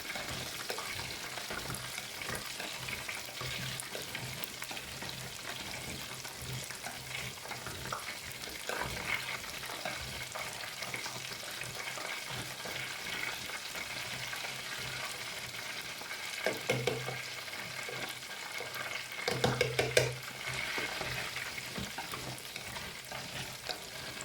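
Steady crackling sizzle of oyster mushrooms frying in hot oil, with occasional stirring clatter and brief louder bursts of spattering.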